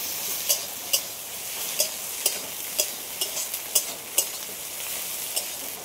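Fried okra and egg tossed together in a pan, a steady sizzle broken by regular sharp scrapes of a spatula stirring about every half second, close and clear.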